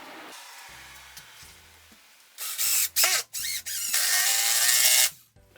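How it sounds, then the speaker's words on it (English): A power driver sinks a 3¼ inch Spax screw at a tight angle into a wall stud. Loud, close bursts of whirring and grinding come in short pulses, then one longer sustained drive that stops abruptly, with no talk. "So I've got my 3¼ inch Spax screw here. And I'm going to shoot this in a pretty tight angle to hit the stud back behind there."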